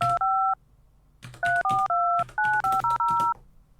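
Touch-tone telephone keys are dialed in quick succession, crisp two-tone beeps: one tone, a short pause, then a rapid run of about eight more.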